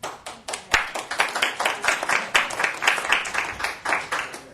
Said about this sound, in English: I hope you're applauding me for allowing it.